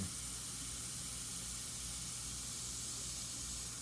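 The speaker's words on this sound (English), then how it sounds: "Now I'll pull the airbrush further away right here." Airbrush spraying paint in a steady, continuous hiss, close and even throughout with no pauses and no talking.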